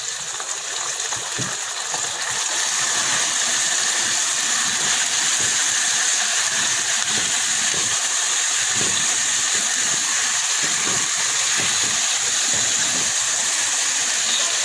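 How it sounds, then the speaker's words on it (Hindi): Onions and meat fry in a pan on medium flame, with a broad, continuous hissing sizzle and scattered light pops and clinks throughout. "ये प्याज फ्राई हो गए हैं। अब इसके अंदर गोश्त डालेंगे"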